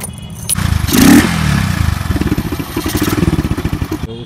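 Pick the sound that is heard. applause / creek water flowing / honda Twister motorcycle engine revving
honda Twister motorcycle engine revving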